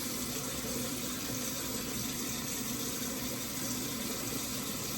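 Food for a bone-in butter chicken stew being washed under a running tap, a steady, even rush of water throughout with no talking.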